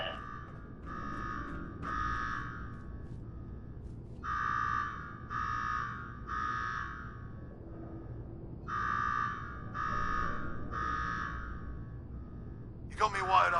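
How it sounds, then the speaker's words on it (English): A repeating alarm blares inside the video game Fallout 4, loud bursts of buzzing tone in uneven groups separated by short gaps, with a sharp noisy burst right at the end. "Now go shut off that damn alarm."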